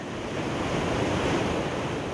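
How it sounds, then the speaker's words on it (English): Rushing white-water rapids on the River Nile near Bujagali in southeastern Uganda, a steady, dense roar of churning water that holds constant and loud throughout, with no voices. "The speed and power of these rapids attract tourists from around the world."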